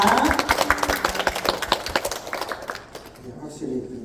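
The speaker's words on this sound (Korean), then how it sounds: "네, 확실히 영혼 없는 박수." Audience applause inside Yeongju Jeil Church greeting a missionary: dense, fairly loud clapping for about two and a half seconds, then thinning out and fading, with voices murmuring underneath.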